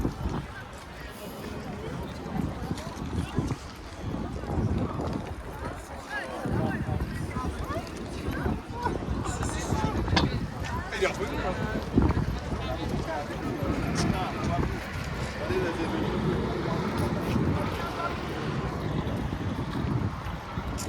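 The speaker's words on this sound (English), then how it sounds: "then the wind's picking up" Gusty wind buffets the microphone on a Paris street, a rough, uneven roar layered with faint street noise and a voice talking nearby.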